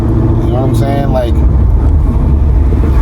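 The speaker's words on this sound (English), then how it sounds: "this car sounds like a straight pipe" A loud straight-piped car engine roars close by on a street, a heavy continuous rumble with a brief rising rev. A voice briefly cuts in over it.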